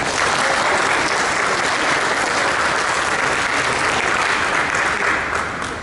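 An audience at an academic event on archaeology and history applauds, loud, steady clapping from a large crowd that holds evenly throughout and eases off slightly at the end.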